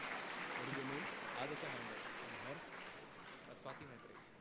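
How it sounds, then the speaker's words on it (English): Conference audience applauding CA Mangesh Panduranga Kinare at a CA students' inaugural session, a steady wash of clapping that slowly fades, with a voice speaking over it. "a huge round of applause for CA Mangesh Panduranga Kinare"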